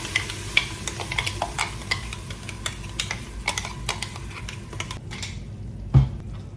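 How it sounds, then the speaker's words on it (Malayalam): Ground coriander leaf and onion paste frying in ghee, a soft steady sizzle with light scraping and clicking of a spoon against the pan, and a single sharper clack near the end. "നെയ്യ് ഒന്ന് ചൂടാകുമ്പോൾ നമ്മൾ അരച്ച് വെച്ചിരുന്ന ഈ അരപ്പുണ്ടല്ലോ, മല്ലിയിലയും സവോളയും, അത് ഇതിലേക്ക് ചേർക്കാം."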